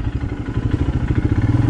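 Motorcycle engine chugging steadily on an off-road trail in the Idukki hills, with a close, continuous low throb and rhythmic pulsing revs, no talk.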